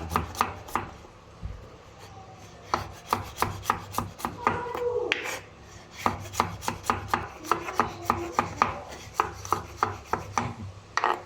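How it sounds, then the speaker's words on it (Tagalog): Garlic is sliced with a knife on a board for a misua dish, a quick series of close, crisp taps in steady bursts with brief pauses between runs. "Ganito lang po maghiwa ng bawang"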